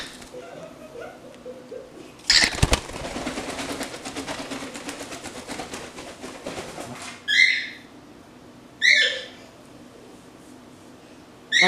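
A pet bird chirps and squawks indoors: a long, busy stretch of chatter followed by two sharp, loud calls a couple of seconds apart, close to the microphone in a quiet room.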